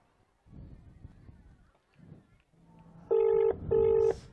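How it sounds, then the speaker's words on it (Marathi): A phone call is placed in a Marathi comedy skit: two steady electronic ring tones sound in the second half, loud and close, after a stretch of murmured voices and background noise. "मुलगा बायकोला फोन लावतो"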